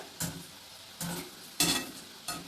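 Diwali snacks frying in oil in a pan, stirred in four separate bursts of scraping and sizzle, close and fairly loud, with no talking.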